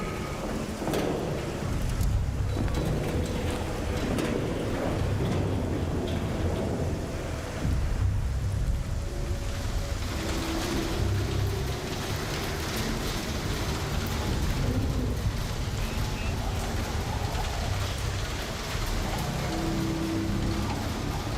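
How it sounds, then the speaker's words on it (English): A thunderstorm with steady rain pouring on surfaces and low thunder rolling through the background, a continuous dense wash of sound lasting the whole stretch, moderately loud with no voices. "Lightning storms."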